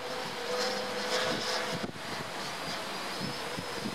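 Wind buffets the microphone outdoors during a drone flight, a steady rumbling rush with gusty swells and a faint airborne hum behind it, continuous and close for the whole stretch.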